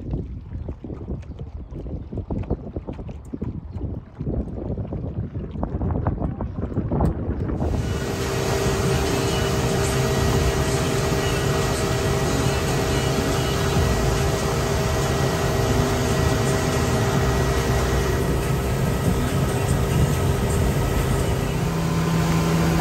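A small remote-controlled motor on a river cabin cruiser drones steadily and loudly after a quieter opening, with wind buffeting the microphone and water noise beneath the engine hum.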